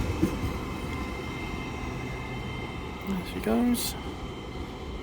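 A TransPennine Express train departs Doncaster station, a steady low rumble with rising motor whine and a brief squeal, while someone speaks briefly over it.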